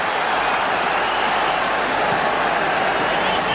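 Football crowd in a Premier League match between Manchester United and Norwich City applauds a goalkeeper's save, a dense, steady wash of clapping and stadium noise under a commentator's voice.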